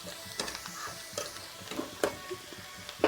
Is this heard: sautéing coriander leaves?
yes